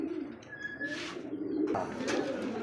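Pigeons coo in short soft bursts close by at a pigeon seller's, with light chirps and a brief flutter among them and no speech.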